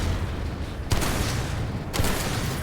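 Gunfire in the video game Mothergunship Forge, a dense, continuous barrage with two sharper blasts standing out against the steady roar.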